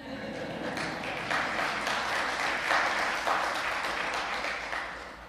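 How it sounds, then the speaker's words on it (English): A church congregation applauds during an Advent Sunday service, a full room of clapping that swells in the middle and eases off near the end, with faint voices underneath. "You can applaud. It's okay."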